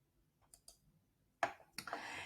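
Computer mouse clicked on a create payment button: a couple of faint soft clicks, then two sharper, louder clicks close by in a quiet room.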